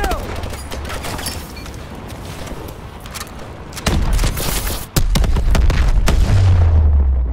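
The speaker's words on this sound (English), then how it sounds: "Pressure explosion. This place is going up." A pressure explosion in Call of Duty Advanced Warfare erupts as loud booms and rapid gunfire bursts, a sharp blast hitting near the end over continuous battle noise.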